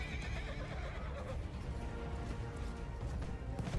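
A horse whinnies in the video game Overwatch 2 amid busy, dense game sound effects, with hoofbeat-like clatter running steadily underneath.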